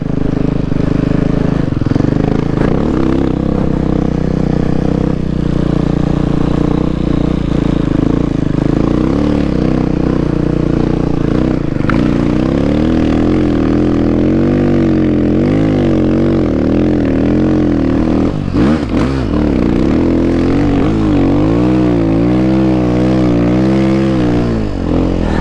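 A Timbersled snow bike on a snowmobile trail through public woods, its engine droning loudly and steadily at close range, the pitch wavering and climbing as the throttle shifts while it rides through snow, with no talking.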